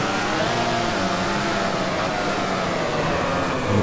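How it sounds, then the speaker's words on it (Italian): A motorcycle engine in the MotoGP 15 racing game drones steadily at high revs, a loud continuous roar with a slowly shifting pitch and no pauses. "Senti il rumore della tua moto, zio. Sentilo, sentilo, sentilo."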